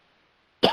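A single sharp cough bursts out abruptly after a moment of near silence.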